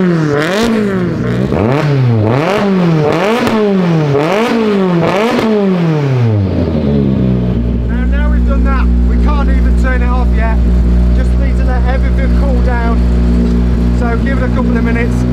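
Ken Block's RX43 Gymkhana car starts up and revs hard in repeated sharp rising-and-falling blips, then settles into a loud, rough, burbling idle with engine clatter, close and dominant throughout.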